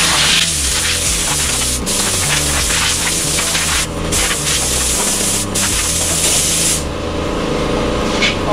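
Compressed air blasts down V-Strom motorcycle parts ahead of painting, a loud, steady hiss running the whole time with a few brief dips.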